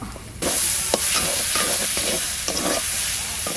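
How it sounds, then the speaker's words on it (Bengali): Young taro leaves frying with grated coconut in a pan, a steady loud sizzle broken by repeated scraping stirs of a spatula, close up, with no voices. "এবার ভালো করে খুঁটি দিয়ে একটু ঘাটা ঘাটা করে দেবো"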